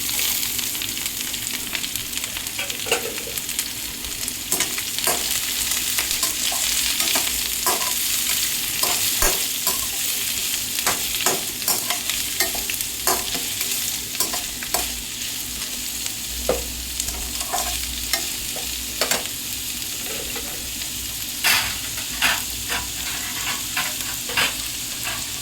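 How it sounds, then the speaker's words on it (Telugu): Chopped onions and green chillies frying for bendakayala pulusu, a continuous loud sizzle broken by repeated scraping stirs in the pan, with no voices. "కాస్త వేగాలండి."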